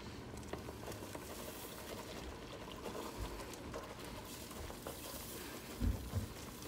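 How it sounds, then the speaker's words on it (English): Dry potato flakes dumped into a pot of hot water and stirred with a whisk, giving a steady soft patter and scraping texture, fairly quiet and unbroken throughout, with a couple of louder knocks near the end and no talking. "we're going to slowly dump our potato flakes in there, and we're going to whisk, start with a whisk"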